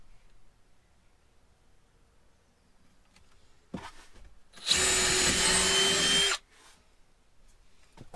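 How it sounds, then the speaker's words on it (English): Power drill boring a hole to bolt a part to the bulkhead of a Ford Transit van conversion, a few brief taps and then a loud, close whining burst lasting under two seconds. "gonna make my holes to bolt it to the bottom of the bulkhead"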